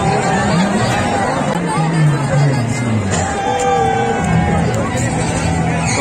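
A dense crowd at the 2023 Chaiti fair in Chhoti Kashi Gola fills the air with steady, close-up babble and hubbub, with many overlapping voices and occasional shouts and no pauses.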